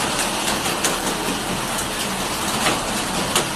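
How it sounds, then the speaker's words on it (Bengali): Heavy rain pours outside after days of nonstop downpour, a loud, steady hiss with scattered drips and splashes that never lets up. "বাইরে খুব বৃষ্টি হচ্ছে।"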